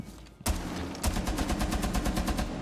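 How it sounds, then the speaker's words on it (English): A rapid string of loud gunshots from Tachanka's weapon in the Rainbow Six Siege video game, opening with a sharp report and then settling into an even, fast rhythm. "You just shoot one time."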